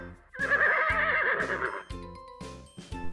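A horse lets out one loud, drawn-out whinny with a wavering pitch, heard over a steady rhythmic music track.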